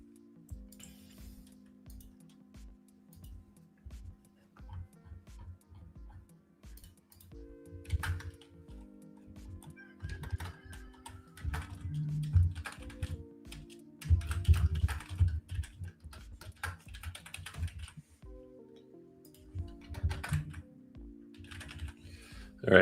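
Rapid computer keyboard typing clatters in irregular bursts under a low tonal background during a live trading stream, growing denser and louder toward the middle.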